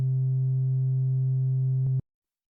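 A steady, pure synthesized sine tone holds for two seconds, then stops abruptly, followed by silence.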